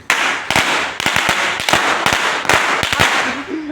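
Firecrackers bursting in a series of sharp, loud cracks and pops, roughly a dozen in uneven rapid succession, close by, with crackling between the bangs.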